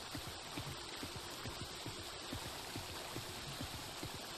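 Steady rushing water from a waterfall in the video game Helium, a continuous even wash of splashing with no voices.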